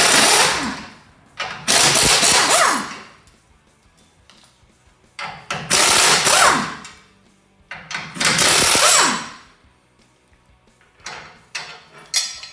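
Ratchet spinning off nuts from plow mount brackets under a truck frame, four nuts per bracket, heard as several bursts of rapid clicking and whirring separated by short pauses, close and fairly loud.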